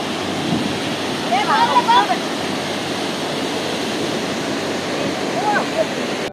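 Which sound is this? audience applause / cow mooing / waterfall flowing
waterfall flowing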